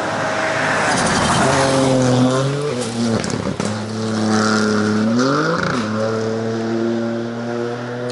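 A Ford Fiesta R2 rally car on a test run drives past loudly, its engine revving up and down through gear changes with rising and falling pitch, close and dominant throughout.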